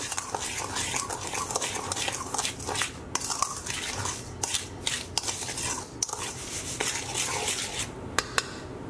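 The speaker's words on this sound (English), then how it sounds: "I'll just give this a quick stir" Ground spices, ginger and nutmeg among them, are stirred briskly in a bowl with rubbing scrapes and scattered light clinks of utensil against the dish.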